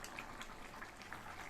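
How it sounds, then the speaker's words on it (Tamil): Baby potato kara kuzhambu curry bubbling at a steady boil in a pot, a soft continuous simmer with faint irregular pops and bubbles, close and fairly quiet. "இப்போ 4-5 நிமிஷமாக குழம்பு நல்லா கொதிச்சிருச்சு."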